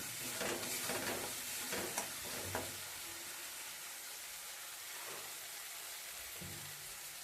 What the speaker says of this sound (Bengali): মশলাটা দেখুন আমি ভালো করে কষে নিচ্ছি